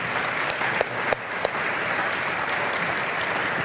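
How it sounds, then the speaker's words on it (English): Audience applause at a tourism organization's annual meeting, a sustained even round of clapping from a sizable crowd with a few louder single claps near the start. "So please join me with a round of applause"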